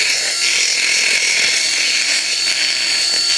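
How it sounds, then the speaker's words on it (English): A power sander grinds steadily against the outside of a broken pipe, a continuous loud, close, high-pitched whirring abrasion with no pauses. "I'll sand the outside part of it"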